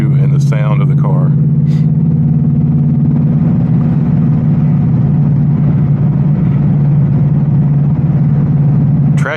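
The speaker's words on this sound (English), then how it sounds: "just let you sit back and enjoy the view and the sound of the car" 810 hp RTR Ford Mustang GT engine with a loud, steady low drone as it cruises, thick and close throughout, with brief talk near the start.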